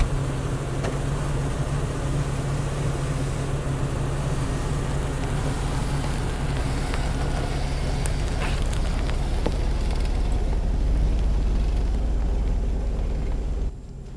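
A Chevrolet Tahoe rolls slowly over a foam pad laid on a rough, jagged rocky road, giving a steady low engine rumble with gritty crunching and scattered crackles from tires on stone, continuous and close.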